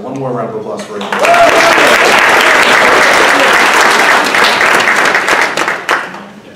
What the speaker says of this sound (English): one more round of applause for Ekin.